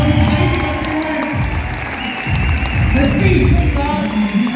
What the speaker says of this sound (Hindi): स्टैंडिंग ओवेशन के साथ जोरदार तालियां शोरगुल के साथ